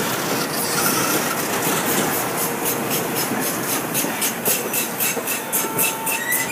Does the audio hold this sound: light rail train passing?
yes